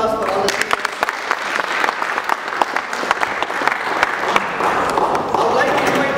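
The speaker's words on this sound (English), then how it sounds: "Big round of applause for all the speakers." Sustained applause from an audience at a Toastmasters mock debate, steady dense clapping filling the room with a few sharper claps standing out, continuing at an even level throughout.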